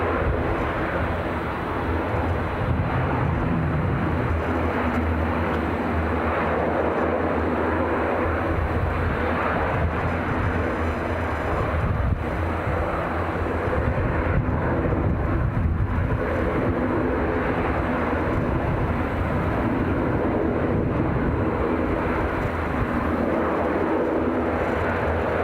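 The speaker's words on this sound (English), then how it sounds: "Make that the next departure action. Edinburgh to Riga with Ryanair." Ryanair jet departing Edinburgh Airport for Riga on a windy day; a continuous, broad engine rumble holds steady at moderate loudness throughout, with no voices.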